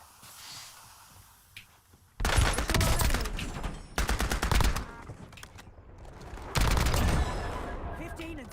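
Automatic gunfire from Call of Duty Warzone erupts in three loud bursts after a quiet start, each a rapid rattling volley separated by short pauses, with faint speech in the background.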